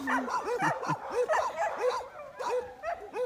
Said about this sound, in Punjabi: ਕੁੱਤੇ ਵਾਂਗੂ ਭੌਂਕੀ ਜਾਂਦੇ ਜਿਹੜਾ ਹੈ ਹੀ ਕੁੱਤੇ ਆ ਉਹਨਾਂ ਭੌਂਕਣਾ ਹੀ